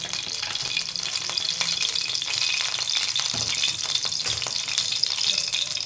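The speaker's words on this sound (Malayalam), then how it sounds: "നമുക്കിനി കടുക് വറുക്കാം." Mustard seeds crackle and spatter in a small amount of hot oil for tempering, a dense, steady close-up sizzle with fine popping throughout and no talking.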